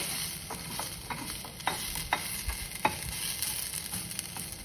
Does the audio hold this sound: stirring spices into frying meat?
yes